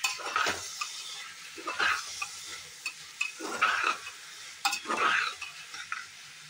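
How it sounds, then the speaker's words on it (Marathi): Tomato and two chillies frying with onion in hot oil for pav bhaji, with a soft sizzle under repeated stirring scrapes and clinks of a utensil against the pan, coming in several close bursts. "ह्याच्यात हा टोमॅटो आणि ह्या 2 मिरच्या ज्या आहेत त्या ह्याच्यात टाकून तेलात चांगल्या परतून घ्यायच्या आहेत"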